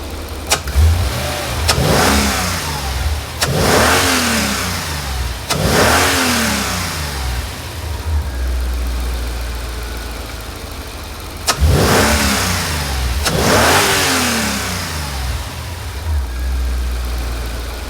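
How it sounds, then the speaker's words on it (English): A Mercedes SL55 AMG's supercharged M113K engine, fitted with a new crank pulley, revs hard several times, each rise in pitch falling back to a steady idle, with sharp clicks and rattles between the revs. "We'll give it a good little rev, see if the belts kind of fly off or anything"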